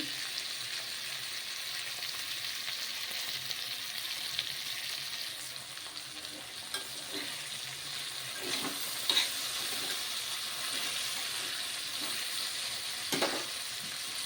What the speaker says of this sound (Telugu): సిమ్లో పెట్టి ఉడుకుతున్నామండి సిమ్లో పెట్టి ఉడుకుంటే బాగుంటుంది